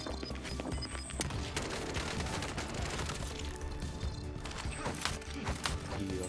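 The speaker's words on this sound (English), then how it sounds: "This is the GROZA I'm using, by the way. This was the new assault rifle" GROZA assault rifle fire in Warzone, a steady dense crackle of shots and impacts going on throughout at moderate level with no talking.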